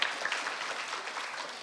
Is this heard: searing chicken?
no